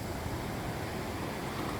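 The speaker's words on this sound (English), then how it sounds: "Look at the waves, folks." Ocean surf washing onto a beach at low tide on the Icacos shoreline, a steady broadband wash of breaking waves with some wind, heard on its own with no talk.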